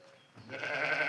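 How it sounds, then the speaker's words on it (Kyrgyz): A young lamb gives a short, near bleat that swells over about a second, sounding alone against quiet surroundings. "Жаш кенже козулар."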